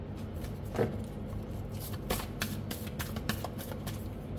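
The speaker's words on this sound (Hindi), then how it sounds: "मैं दोबारा शफल करूँगी" Tarot cards being shuffled by hand, a soft, quiet papery riffling with a few sharper flicks spread across a few seconds, with no talking.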